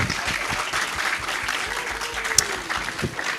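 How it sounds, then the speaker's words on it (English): Audience clapping for the event's sponsor, PayNet, at the IBOH 2024 opening ceremony, a steady mid-level wash of many hands filling the hall with a few sharper claps standing out. "can we give PayNet a clap?"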